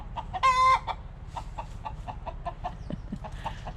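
Molting hens give repeated short clucks near the listener in steady rhythm, with one louder drawn-out squawk early on standing out above a constant low background hum.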